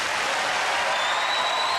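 Applause and cheering from a presidential debate audience in 1988, a dense, steady wash of clapping close and loud throughout, with no talk over it.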